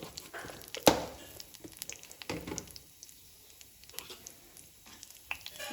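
Chana dal, urad dal and tempering seeds spluttering in hot oil in a home kitchen, with one sharp pop and crackles, faint intermittent sizzling and stirring noises.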